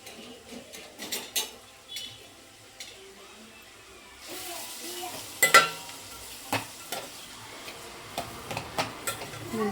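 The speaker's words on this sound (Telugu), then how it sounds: "కొంచెం గోల్డెన్ బ్రౌన్ కలర్ వచ్చే వరకు ఫ్రై చేసుకున్నాం ఆనియన్స్ అయితే." Onions, three of them, fry toward golden brown in a pan for chicken drumstick curry, a faint sizzle under sharp spoon scrapes and utensil knocks that come in irregular bursts, with no talk.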